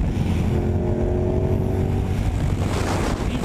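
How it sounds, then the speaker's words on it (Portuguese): Yamaha MT-07 motorcycle fitted with a loud aftermarket exhaust, cruising on the road, heard as a steady, loud engine drone with wind rush and a brief tonal whine, no speech. "Vamos ver com o nosso escape monstro,"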